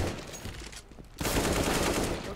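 Rapid gunfire from CS:GO crackles in dense, overlapping bursts, a brief lull just before one second and then a loud, sustained volley through to the end.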